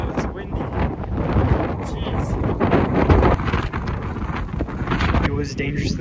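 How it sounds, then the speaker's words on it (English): Strong wind buffets the microphone in steady loud rumbling gusts at a windy summit on a West Coast road trip, with a short spoken exclamation over it. "Holy cow, it's windy."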